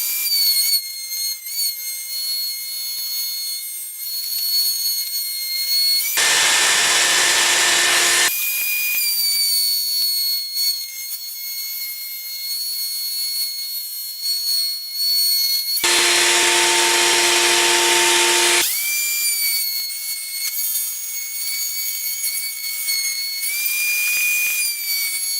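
A high-pitched power router with a dovetail bit whines steadily, dropping into two louder bursts as it cuts dovetails in wooden table legs, each lasting a couple of seconds.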